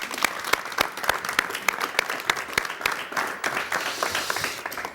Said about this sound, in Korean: 여러분 박수를 부탁드립니다